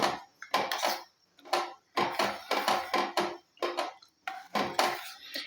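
A spoon mixes henna, curry leaves and other homemade black hair oil ingredients in a steel pot, making bursts of close metallic clatter and scraping in rhythmic groups separated by short pauses.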